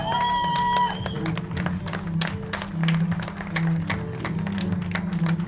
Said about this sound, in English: As he leaves to a round of applause from the stands